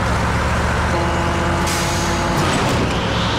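A big truck in the Yakuza Kiwami 2 video game roars loudly with heavy engine rumble, then a sharp air-brake hiss bursts out midway through.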